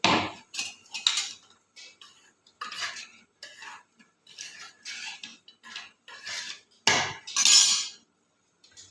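Peanuts being mixed into sabudana with a metal utensil: a series of irregular clinks and scrapes against the vessel, close and fairly loud, separated by short quiet gaps.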